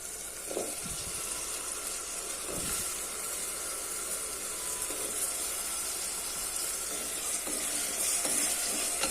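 Medium-sized potato pieces with ginger garlic paste sautéing in hot oil in a pan, a steady close sizzle and hiss with occasional stirring scrapes, continuous and without talk.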